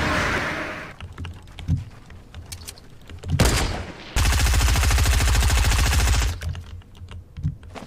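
Rapid bursts of gunfire from the tank battle game TANX crackle in short clusters, with one long sustained stream of automatic fire in the middle, loud and close, mixed with sharp clicks.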